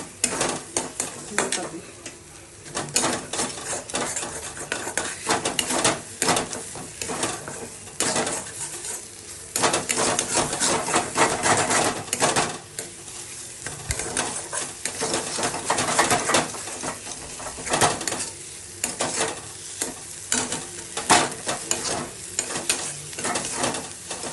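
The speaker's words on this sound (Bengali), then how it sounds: "এভাবে নাড়িয়ে নিচ্ছি" Prawn bharta gets stirred in a pan, with continuous scraping and clattering of a utensil against the metal over a low sizzle, busy and close throughout with no talking.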